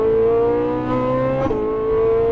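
Ferrari 458 Italia on a race track, engine holding a loud, sharp high-pitched wail with a brief dip and recovery midway, like a quick gear shift, close and steady, without voices.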